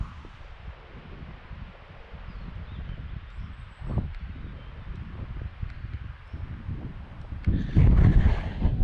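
Wind buffets the microphone in low, rumbling gusts, with a stronger blast near the end.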